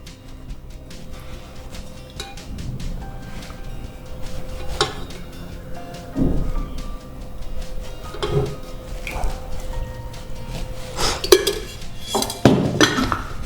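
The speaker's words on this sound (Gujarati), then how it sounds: "આ બધાને બરાબર મિક્સ કરી લઈશું" Repeated scraping and clinking of a spoon stirring methi vada batter with turmeric, ajwain, curd, jaggery and oil in a metal bowl, irregular and close, with occasional heavier knocks.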